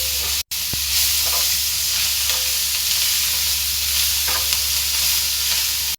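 Onions fry down into crisp beresta with coriander leaves in hot oil, giving a loud, dense, continuous sizzle and hiss close up, with a few faint stirring scrapes and a brief dropout near the start.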